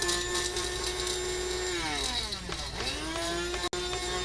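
An electric spice grinder whirs loudly and steadily, grinding pink peppercorns, its motor pitch sweeping down and back up as the load shifts, cutting off abruptly near the end before resuming.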